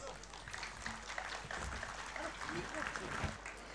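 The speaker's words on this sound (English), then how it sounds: "May we request all of you to rise and give him a rousing applause." An audience rising to give a rousing ovation, a dense, continuous roar of clapping with mixed crowd voices, fairly distant and steady throughout.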